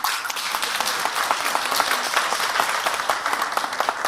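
Steady crowd applause at a car service company's award ceremony, many hands clapping evenly at close range for the whole few seconds.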